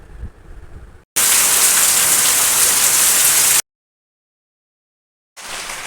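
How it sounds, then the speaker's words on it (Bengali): Heavy rain pours down outside a home with a dense, loud, steady hiss, broken by a sudden stretch of silence before the downpour resumes. "আর দেখো কত জোরে বৃষ্টি হচ্ছে"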